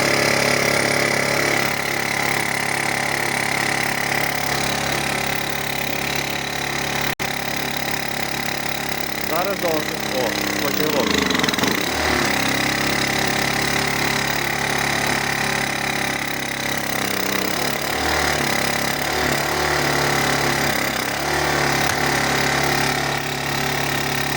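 A small inverter generator engine runs unevenly and keeps trying to stall from a carburetor fault. It holds a steady mid-pitched drone for the whole clip, and someone talks over it.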